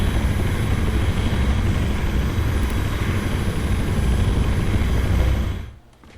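A model helicopter's rotor buzzes loud and close in a steady, unbroken drone, then cuts off abruptly near the end.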